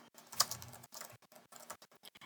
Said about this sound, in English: And then you're going to start typing here.